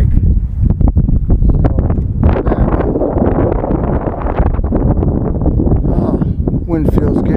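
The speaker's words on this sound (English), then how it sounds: "So, wind feels good." Wind gusts roughly over the microphone on an outdoor hike, a steady rumbling buffet lasting throughout while a person talks close by.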